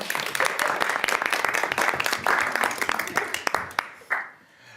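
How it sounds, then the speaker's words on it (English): Members in a legislative committee room clapping, a modest group of individually audible sharp claps at close range, irregular and lively, then trailing off into a few last claps and near silence. "May we clap? and welcome? We may clap."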